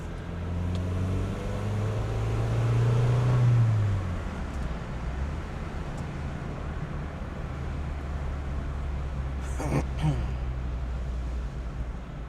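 A 2001 Nissan Silvia S15 Spec S with a naturally aspirated engine pulls away from inside the cabin, a low engine drone rising and falling over steady road and tire rumble.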